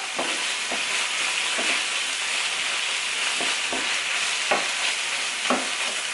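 Beef and rice sizzle and crackle steadily in a hot skillet while a utensil scrapes and stirs them every second or so, with no voices.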